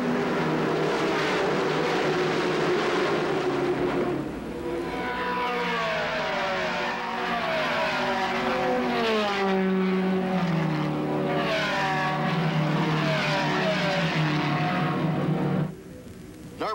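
1965 Indy 500 race cars, a mix of roadsters, Novis and rear-engine cars, racing around the track with loud, high engine whines sweeping up and down in pitch as cars pass, dropping briefly near the end.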